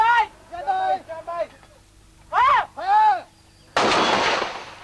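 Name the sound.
artillery fire in military operation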